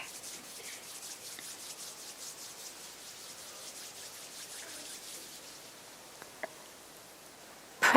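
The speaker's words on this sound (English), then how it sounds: "bring the palms of your hands together at chest level and gently rub them against each other" Palms of the hands rubbed gently together at chest level during a guided relaxation practice, a soft continuous rustling that holds steady and fades, with a brief louder touch at the very end.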